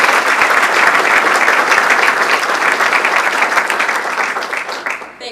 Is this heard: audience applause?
yes